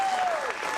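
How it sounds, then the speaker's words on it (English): Applause from the audience at a congressional district debate in Rochester, Minnesota, a brief dense burst of clapping with a faint steady tone running underneath. "if you can hold your applause"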